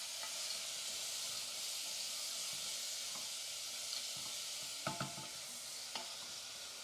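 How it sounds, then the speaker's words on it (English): Frozen peas and leeks cook in olive oil in a pan, a steady soft sizzle with a few clinks and stirring knocks near the end, no voices. "I'm going to lightly cook until the peas thaw out and all the vegetable and the leeks become good and tender"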